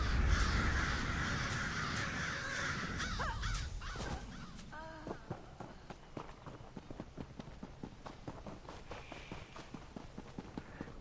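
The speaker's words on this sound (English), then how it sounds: "To be torn apart by crows." Crows caw harshly in the Elder Scrolls Online video game, a burst of overlapping calls at the start that fades into a few scattered caws over footsteps and ambient game noise.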